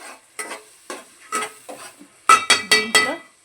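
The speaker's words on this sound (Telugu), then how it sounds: "టమాటా గుజ్జు వేసి ఇలా కలుపుకోవాలి ఫ్రెండ్స్." A spoon scrapes and clinks around a pan as tomato pulp is stirred into a fish curry. The strokes come as a series of separate bursts, sharper and quicker toward the end, with a faint sizzle underneath and no talking.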